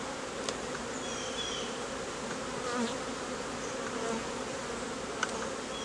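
A dense, steady drone of many honey bees buzzing close by around opened hive frames during queen grafting, continuous and fairly loud, with a few brief clicks.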